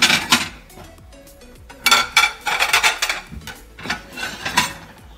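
Plates and dishes clatter and clink in a home kitchen while eggs cook, with repeated sharp ceramic knocks and scraping in uneven bursts, close and fairly loud with no talking.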